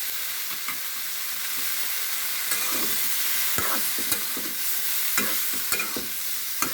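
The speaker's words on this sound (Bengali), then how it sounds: "মাছগুলো ভেজে নিচ্ছি।" Fish pieces frying in oil in a pan for a fish curry with ridge gourd, a dense continuous sizzle with scattered crackles and pops and occasional stirring scrapes, close and steady, with no voices.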